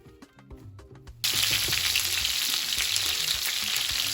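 Food for a Jamaican breakfast of festival and cooked-up salt fish hits a hot skillet, bursting into a loud, steady, close frying sizzle after a short stretch of quieter clattering.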